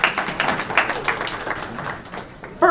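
Audience at a luncheon applauds, a dense burst of clapping from a crowd that tapers toward the end before a voice cuts in.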